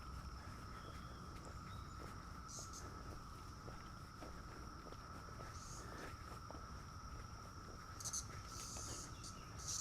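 Cicadas drone steadily along a wooded state park trail, a continuous high insect buzz holding throughout, joined by rustling footsteps and faint chirps.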